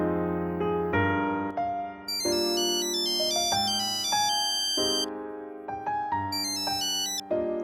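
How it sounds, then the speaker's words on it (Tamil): A phone ringtone for an incoming call plays alone, loud and close, as a bright melodic electronic tune of repeating stepped notes that carries on for several seconds. "ஃபோன் கால் வந்ததே ஞாபகம் இருக்கா?"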